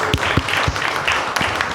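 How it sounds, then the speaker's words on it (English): Audience applause at a live event after a speaker's introduction, a steady dense wash of clapping with a few louder nearby claps standing out, filling the short moment alone. "Let's give Michael a round of applause."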